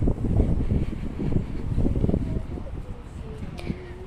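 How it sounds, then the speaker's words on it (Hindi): Light wind blows outdoors near a subway station by a university in China, buffeting the microphone with a steady, loud low rumble that eases slightly toward the end. "थोड़ी बहुत हवा चल रही है"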